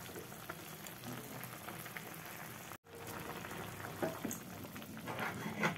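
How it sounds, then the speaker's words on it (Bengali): Banana flower simmers in a pot of salted water, a soft continuous bubbling and sizzling hiss at low level with no voices, briefly cut out midway before resuming. "মোচাটা সেদ্ধ হচ্ছে, আর 2 মিনিটের মতো করে নেবো"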